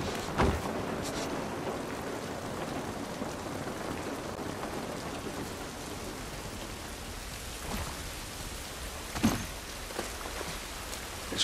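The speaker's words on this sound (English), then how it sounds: "This rain ain't gonna do us any good." Steady rain falls outdoors in The Last of Us Part 1, a continuous even hiss of drops on surfaces with a few louder thumps.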